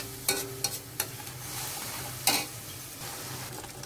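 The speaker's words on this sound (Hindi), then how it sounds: "और इन सबको हम अच्छे से मिक्स कर लेंगे। इसको हमें 2-3 मिनट पकाना है" Chole with masala paste is stirred in a pan under a steady low sizzle, with four sharp scraping strokes of the spoon, three close together early and one later, loud and close.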